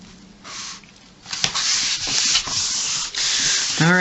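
A craftsperson burnishes a cut piece for a Georgia Blues album-cover artwork, the dry scratchy rubbing starting faint then continuing loud and steady in close strokes for several seconds, with a brief squeaky tonal sweep near the end.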